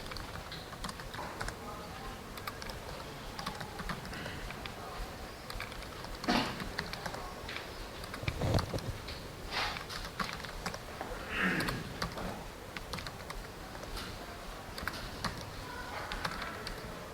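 Soft, rapid typing on a computer keyboard during a programming lecture, with keys clattering steadily throughout, fairly quiet and close, under occasional faint talking.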